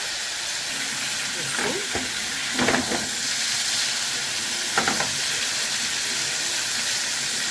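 Breaded panée cutlet grilling on a pan gives a steady, even sizzle throughout, with two brief scraping clatters as it is flipped and turned, no voices.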